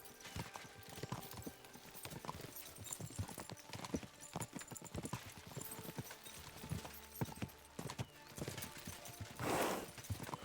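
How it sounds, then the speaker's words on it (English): Horses' hooves clip-clop steadily in Kingdom Come: Deliverance, several animals trotting close by in a busy rhythmic patter with a brief louder burst near the end. "We should spur the horses on."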